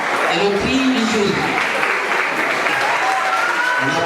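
Loud, dense applause from an audience at a youth choir festival award in Libreville, continuous clapping close by, with voices mixed in underneath.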